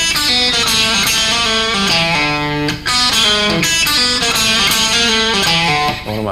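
Electric guitar playing a short blues phrase with slide, clean and close, sustained notes gliding between pitches with a brief pause midway, heard alone.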